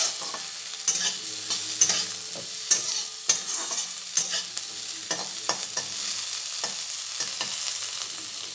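Chopped green chillies frying in a pan, with a steady sizzle and a spoon scraping and stirring in repeated strokes, close and clear with no talking.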